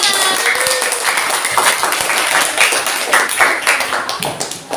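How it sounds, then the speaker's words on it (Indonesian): A group of children clap their hands together in a steady burst of applause, the patter sustained and fairly close throughout. "tepuk tangan anak-anak"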